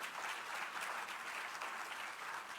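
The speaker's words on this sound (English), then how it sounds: "give Nick a big round of applause" Crowd applause at a congressional Medicaid town hall, a sustained wash of many hands clapping at an even level, fairly quiet and distant-sounding throughout.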